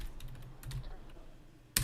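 Computer keyboard typing into a live-stream chat: a few soft, quick key clicks over a low background hum, ending in one sharper, louder keystroke.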